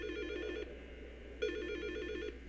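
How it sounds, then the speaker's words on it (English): A telephone ringing in the psychological horror game Silent Hill Shattered Memories: two long electronic trilling rings separated by a pause, clear and close over a faint low hum, with no talking. "Sir, you gonna answer your phone?"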